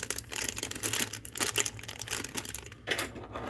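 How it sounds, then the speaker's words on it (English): A plastic bag of toy building parts is wrestled and torn open, loud close crinkling and crackling with sharp ripping bursts throughout, continuous and busy. "This plastic bag cannot be that hard to open."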